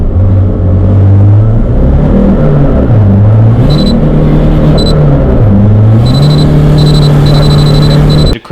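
A Nissan D22 pickup's YD25 diesel, tuned to around 400 horsepower, drones steadily on a dyno, its pitch dipping and climbing through several rev changes, loud and close, while short high electronic beeps chirp intermittently.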